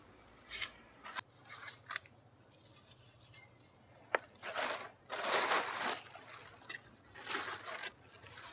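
Scissors pruning plants in a late-winter container garden, with close crisp snips and rustling foliage in irregular bursts, some longer crunchy rasping cuts, and a low steady hum underneath.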